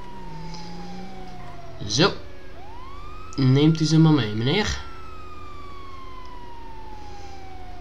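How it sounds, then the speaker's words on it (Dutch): A police car siren from the GTA V LSPDFR police mod wails with rising and falling sweeps under someone speaking Dutch, sounding fairly close and steady. "Sirene mag trouwens wel uit."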